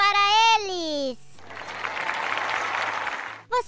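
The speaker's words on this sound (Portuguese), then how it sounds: "Palmas para eles!" Studio audience applause for the judges on a children's quiz show, a dense burst of clapping lasting a couple of seconds, set between a sung or spoken voice before it and another voice starting right after.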